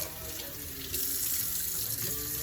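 Tap water running steadily into a kitchen sink while a turkey is rinsed, a close, even hiss and splash that grows slightly stronger partway through, with no talk.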